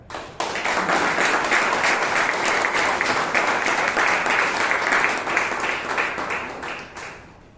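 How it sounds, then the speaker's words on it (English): A roomful of people at a Toastmasters meeting in Bangalore bursts into sustained, dense applause that holds steady for several seconds before tapering off. "Ladies and gentlemen, give yourselves a huge round of applause for that."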